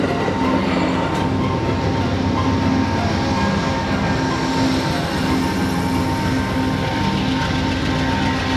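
Passenger train rolling along near Santa Barbara, a steady loud rumble of wheels on track with faint rhythmic clatter, continuous and close, with no voices.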